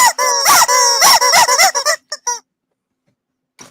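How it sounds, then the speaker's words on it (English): Rubber chicken toys squeezed in quick succession, a loud run of honking, wheezy squeals close up that trail off into silence, with a final faint squeak near the end. "They'll all squeak for you."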